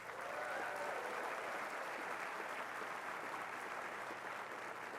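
Steady, sustained applause from a large commencement ceremony crowd, a dense wash of many hands clapping at an even level throughout with no gaps.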